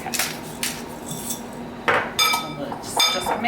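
Shrimp being mixed with salt and pepper in a bowl, with a few clinks and scrapes of a utensil against the dish, short bursts separated by pauses, close and clear.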